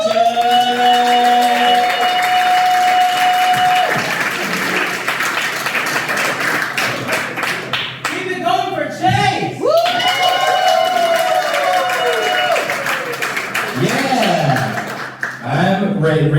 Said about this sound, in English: Start clapping now for the very funny Mr.